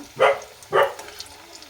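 A pet dog named Tuktuk barks twice from inside a home, two loud, close barks about half a second apart, with quiet room sound afterward.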